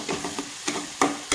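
Masala paste with tomato sautéed for rajma chawal, a low frying sizzle broken by four sharp scraping stirs of the spoon against the pan, close and fairly loud.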